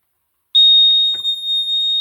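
A power relay board gives a high, piercing electronic tone when connected, beginning abruptly and holding steady as a continuous beep, with faint clicks underneath and no talk.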